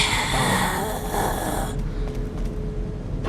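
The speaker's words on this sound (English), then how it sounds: "They almost sound perverted with that breathing." Creepy, heavy raspy breathing from parasite enemies in Resident Evil 4, a snoring-like wheeze that is close and steady under game ambience, shifting in tone midway.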